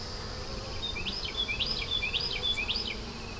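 Honeybees buzz at close range around an open hive during an inspection, a steady hum with several rising and falling whines as individual bees fly past.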